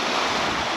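A strong north wind blows along the coast at a sea trout fishing spot, making a loud, steady, unbroken rush like surf, with no voices.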